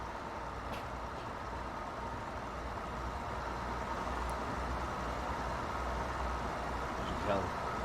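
A Class 142 railbus diesel engine in Train Simulator Classic drones steadily at low pitch throughout, a continuous rumbling hum with little variation.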